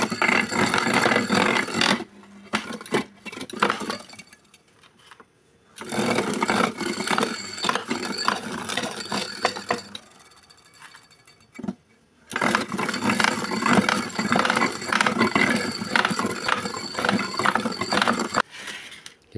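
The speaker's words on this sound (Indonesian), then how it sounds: "ini dia hasil yang sudah diparut dengan mesin" A grating machine shredding ingredients for ice cream, loud harsh mechanical whirring and rasping in long bursts broken by short pauses.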